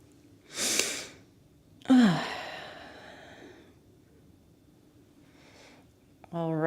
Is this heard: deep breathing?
yes